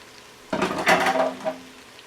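Bacon drops back into a hot pan holding carrots, onions and garlic for beef bourguignon, making a sudden clattering scrape of a utensil on metal, then a short rustle and settling sizzle.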